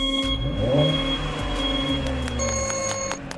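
A car pulling away and speeding up, engine tone rising and shifting over a few seconds with a steady mechanical whine, close and fairly loud.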